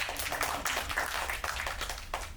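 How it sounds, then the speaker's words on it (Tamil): Audience clapping at a film press meet, a steady patter of many hands filling the room at moderate loudness, with no voices over it. "இந்த கைதட்டெல்லாம் இப்போ கேட்டு வாங்க வேண்டியதாக இருக்குது"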